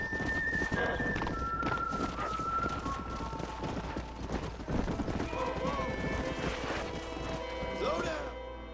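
A horse being broken in the Red Dead Redemption game, among cacti, with hooves clattering, snorts and whinnies under a constant wash of game audio, music and voices talking.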